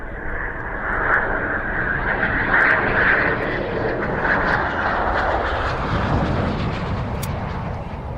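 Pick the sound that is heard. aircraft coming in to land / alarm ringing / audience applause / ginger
aircraft coming in to land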